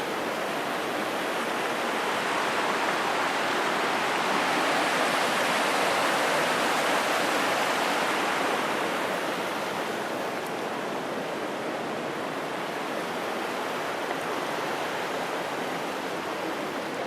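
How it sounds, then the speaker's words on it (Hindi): Flowing mountain river, the Son in Uttarakhand, its boulder-strewn bed reshaped by flooding. It gives a steady, loud rushing roar of fast water that holds constant throughout, with no voices. "इस नदी का प्रभाव दिखा रहे हैं आपको कि ये नदी कितनी प्रभावशाली नदी है"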